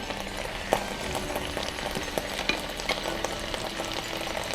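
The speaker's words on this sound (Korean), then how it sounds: "화이트 와인 넣으시고 한번 화이트 와인에 알코올을 날려주시고요. 토마토를 넣어주세요." Tomatoes and white wine cooking in a pan, giving a moderate steady sizzle and bubbling with scattered light utensil clicks, heard without talk.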